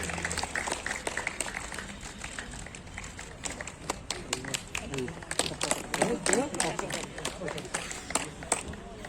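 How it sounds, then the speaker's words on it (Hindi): Scattered crowd applause greets the chief guest at the opening of a youth football league tournament, with uneven bursts of claps and voices talking underneath. "जोरदार तालियां हमारे चीफ गेस्ट के लिए और इस छोटी सी रस्म के लिए।"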